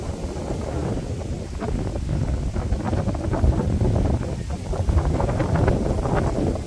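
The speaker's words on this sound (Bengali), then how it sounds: "কি সুন্দর বাতাস" Steady wind blowing across the microphone in a village ahead of rain, loud and continuous with gusty low buffeting throughout, no voices.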